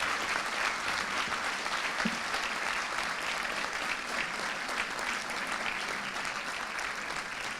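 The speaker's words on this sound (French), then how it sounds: "Sous vos applaudissements, s'il vous plaît." Steady, even applause fills a hall during the closing ceremony of a Haitian Model United Nations conference, sustained at a moderate distance with no talk over it.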